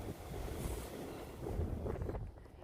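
Wind buffeting a microphone outdoors on the Ridgeway trail, a steady rumbling roar with gusts swelling and easing, with no voices.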